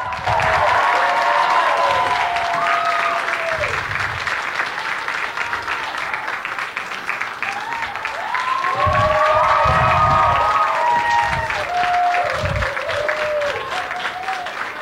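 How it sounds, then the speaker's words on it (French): Audience applause and cheering for performers gathered on stage at a secondary school talent show, a sustained dense roar of clapping with shouts rising and falling, swelling again midway, with a voice briefly heard through it. "je vais entendre tout le monde applaudir"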